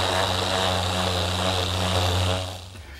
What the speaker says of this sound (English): I've just got a little more sanding to do on this blank